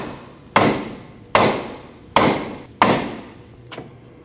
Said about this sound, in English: You can take a rubber mallet and hit in this direction.